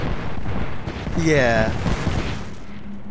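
Explosions and gunfire in a video game make a dense, continuous rumble of blasts and shots, loud throughout, while a player's voice speaks briefly over the din.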